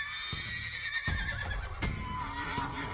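A frightened horse whinnies inside a stable, its loud neighs rising several times over a steady rustling background, with a sharp knock or hoof strike near the end.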